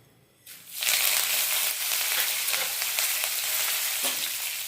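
Tempering seeds, dried red chilies and curry leaves drop into hot oil in a pan and burst into a loud, sustained sizzle that starts abruptly and crackles steadily close by.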